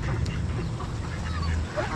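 Ducks quack near a fishing spot at close range, giving short nasal calls over a rough outdoor background with no clear talk.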